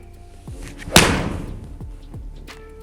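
A golf driver strikes a ball for a draw shot: one sharp, close crack that fades quickly into a quiet background hum, with no voices.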